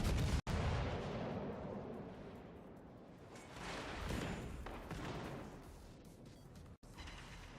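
Secondary guns of a warship firing in World of Warships, a continuous rumbling barrage of booming shots and blasts that swells and fades, with no voice heard.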